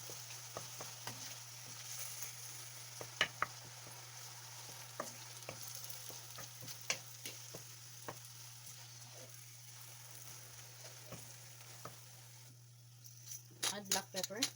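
Ground turkey seasoned with Hawaiian salt and black pepper fries in a pan, a steady sizzle under sharp scraping stirs that come in irregular bursts, with a flurry of clatter near the end; a low steady hum runs throughout.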